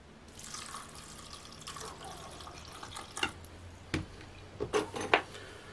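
Water is poured onto sugar and fresh yeast in a bowl, a soft trickle followed by a few distinct splashes and drips near the end.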